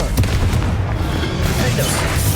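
A Confringo blasting spell explodes in the Hogwarts Legacy video game, a dense, continuous booming roar that stays loud for the whole span with no pause or speech.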